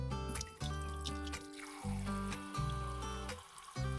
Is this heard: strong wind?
no